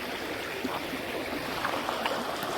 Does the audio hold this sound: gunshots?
no